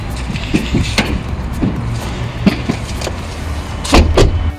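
People climbing into cars with several sharp car door thumps and clunks spread irregularly over a steady low engine rumble, fairly close and loud.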